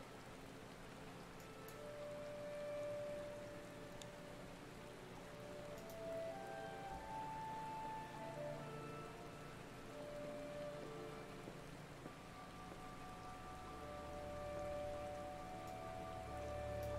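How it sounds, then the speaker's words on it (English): Steady soft rain patters in the background of a Final Fantasy XIV scene, a constant even hiss running the whole time with faint tonal game music layered over it and no voices. "I love the rain just in the background, so nice."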